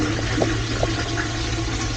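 A normal gravity toilet on a Nile River cruise ship flushing, a loud, close, continuous rush of water with small gurgles, heard alone with no talking.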